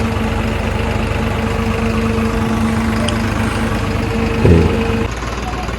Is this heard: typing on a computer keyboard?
no